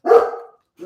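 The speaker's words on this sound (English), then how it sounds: "They're gonna bark for a minute." A dog gives one loud, close bark, and a second, shorter bark follows after a brief pause.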